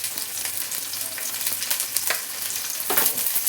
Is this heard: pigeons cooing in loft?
no